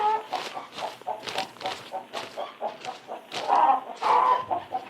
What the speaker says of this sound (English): you old sneaking hen, you. Trying to hide your eggs from me, huh?